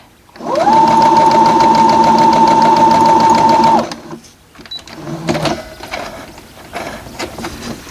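A sewing machine runs a steady burst of stitching along a quilt block seam, loud and close for about three seconds. It stops abruptly, and quieter handling clicks and rustles follow.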